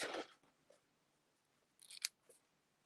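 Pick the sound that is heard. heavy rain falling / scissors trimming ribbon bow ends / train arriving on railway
scissors trimming ribbon bow ends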